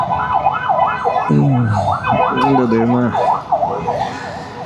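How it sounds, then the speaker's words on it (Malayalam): An ambulance siren wails with a steady rising-and-falling rhythm on a busy road in Edappally, heard from a scooter ride toward MG Road, loud and close throughout while a man exclaims over it and a horn-like tone sounds briefly. "ഒരു ആംബുലൻസ് വരുന്നുണ്ടല്ലോ"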